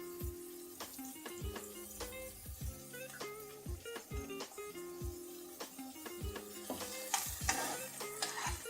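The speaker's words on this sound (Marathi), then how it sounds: "मिरची टाकून ढवळून घ्यायचं. कांदा ठेवते आणि ढवळूया." Chili and onion are stirred as they fry in a pan, with a steady sizzle and spoon scrapes heard beneath prominent tonal background music.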